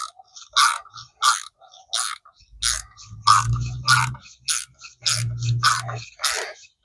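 Screws are driven into a wall mount for a retractable garden hose reel in a series of short, sharp scraping and squeaking bursts, with deeper grinding turns between them, close and alone with no talk.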